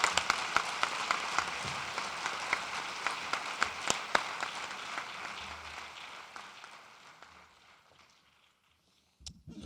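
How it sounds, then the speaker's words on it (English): Conference audience at a public employees diversity conference applauds, a sustained wash of clapping with distinct individual claps that gradually fades to near silence, followed by a brief noise at the very end. "let's give them one more round of applause"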